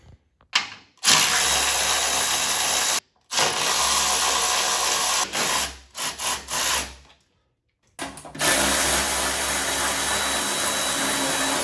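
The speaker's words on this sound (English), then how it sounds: "I'm gonna go ahead and remove these 3 bolts here from the top of the strut and just go ahead and remove it." Strut mount bolts being removed from the top of the strut on a 1994 Mustang with suspension problems, heard as long stretches of loud buzzing power-tool whir broken by short pauses and brief ratcheting bursts, close and steady.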